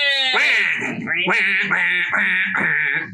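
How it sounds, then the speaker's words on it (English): A duck quacks repeatedly in a series of loud, nasal, harmonic calls close by, about five quacks in rhythmic succession with no talk over them. "It's a very charismatic duck."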